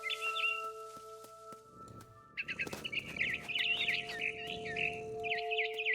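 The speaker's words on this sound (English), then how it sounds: "chirping outside my window" Birdsong in What Remains of Edith Finch: a small bird chirps in quick twittering bursts, fairly close and clear over a faint steady tonal hum, with soft rustling underneath.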